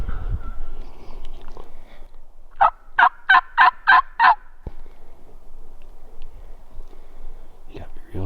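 Wild turkey gobblers on public land during a hunt give a rapid series of about six loud, close gobbles, with soft whispering and faint rustling before and after.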